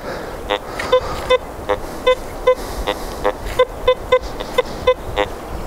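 A Teknetics T2+ metal detector sweeping over a buried 1738 coin gives a series of short, rhythmic electronic beeps, roughly two per second, loud over a hissy outdoor background.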